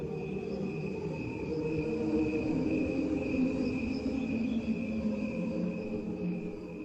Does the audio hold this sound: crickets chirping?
yes